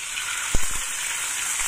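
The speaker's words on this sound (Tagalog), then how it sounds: "i-fry lang natin yan hanggang sa maluto bago natin ilagay sa fried rice" Salmon frying in hot oil in a pan, a steady bright sizzle running throughout with a couple of short soft knocks of the pan early on.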